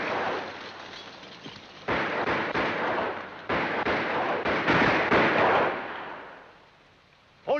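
Gunfire from a battle scene in a 1951 film crackles in bursts of overlapping shots and booms, loud and dense, fading out toward the end.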